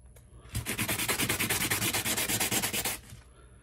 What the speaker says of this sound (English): I will take a little of my sandpaper and get any other debris off of there.